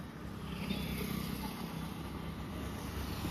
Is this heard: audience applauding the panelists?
no